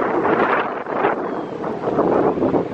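Strong wind buffets the microphone in a continuous roaring rush, gusting up and down without pause.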